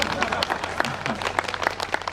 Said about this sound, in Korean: 박수 쳐줘